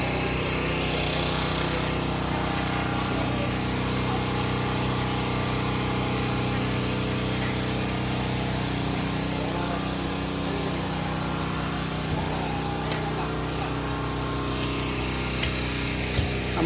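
A motor engine runs at a steady, unbroken drone throughout, close and fairly loud, with a constant mechanical hum and no talking.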